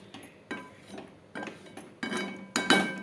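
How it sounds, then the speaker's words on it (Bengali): Mutton sautéed with turmeric and salt, stirred in a pan, giving a series of about six sharp spoon-on-pan clanks at a steady rhythm over a low sizzle. "এখন একটু ভালো করে এটা কষাবো, কষতে থাক।"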